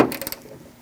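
A ratchet wrench tightens a bolt on the left front exterior door handle of a 2006-2011 Chevrolet, a short quick run of close clicking pawl ticks that fades out.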